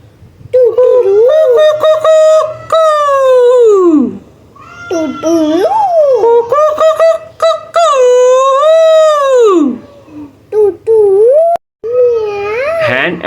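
A rooster crows in a farm-animal lesson for children, giving several long, loud, rising and falling calls one after another, close and clear with short pauses between them.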